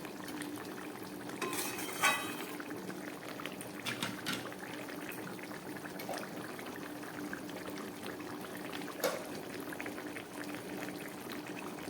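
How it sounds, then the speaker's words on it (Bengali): Fish curry gravy with fish heads and rita-tengra fish bubbling in a pot on a gas stove, a steady low boil with soft, continuous bubbling and a couple of louder clinks, heard alone without talk. "ঝোলটা ফুটে উঠেছে"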